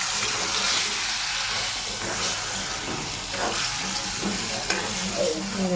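Raw mango curry stir-fried in a slightly scorched pan, a steady close sizzle with repeated spoon scrapes running throughout, no voices.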